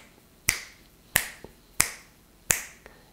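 Four sharp finger snaps, evenly spaced and close, standing in for the click of a metal mechanical heart valve, with a faint softer tap between some of them; no talking.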